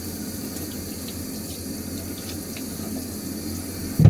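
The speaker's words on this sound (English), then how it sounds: "Get a little water on my face." Tap water runs steadily into a sink as someone wets their face before shaving, a soft continuous splashing hiss with a brief louder splash at the very end.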